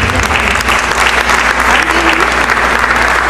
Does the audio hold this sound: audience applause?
yes